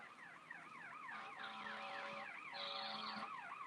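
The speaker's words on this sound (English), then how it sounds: "y'all about to hear a siren here" A wailing siren rises and falls in quick repeated sweeps, fairly faint and somewhat distant, in Nashville, with no talking.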